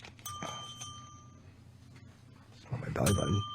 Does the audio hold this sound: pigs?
no